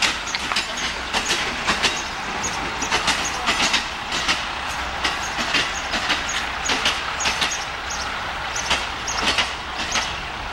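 A train passing on a railway in Burma, with rhythmic clickety-clack of wheels over rail joints and a steady rumble, fairly close and continuous with no talk.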